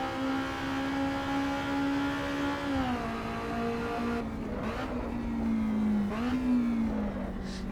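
Steady, high-revving car engine in the Assetto Corsa EVO racing game, a sustained loud drone that dips slightly as the pitch shifts with gear changes, continuous with no talk.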